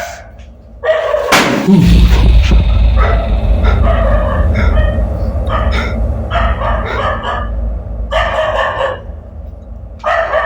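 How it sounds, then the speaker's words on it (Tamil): A dog barks repeatedly outdoors at night, a loud sharp burst opening into a steady series of barks that carry on through the whole stretch over a low background rumble. "நாய் வேற கண்டினியூவாக குலைச்சிக்கிட்டே இருக்கு."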